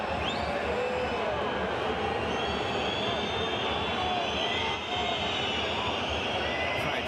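At an AEK versus Hapoel Jerusalem Basketball Champions League game, an arena crowd roars in anger at a referee's call. The loud, sustained rumble is laced with shrill whistles, and a commentator talks over it.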